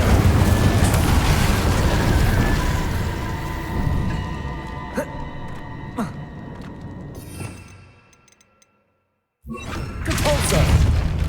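The Incendio fire spell in the Hogwarts Legacy video game gives a loud roaring burst with thuds and whooshes that fades to near silence, then surges loudly again.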